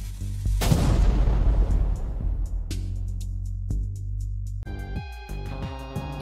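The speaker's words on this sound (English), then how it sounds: "Those ink bombs should keep them busy for a while." Ink bombs burst in the video game Ruza as a deep, rumbling boom that rolls out and fades over several seconds, loud and close, before a tonal musical hum takes over.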